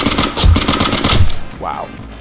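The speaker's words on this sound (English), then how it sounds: "Oh, someone's shooting at me." Gunfire in the blocky online shooter Ace of Spades, a loud rapid burst of repeated shots close by over about a second, followed by a brief falling whine.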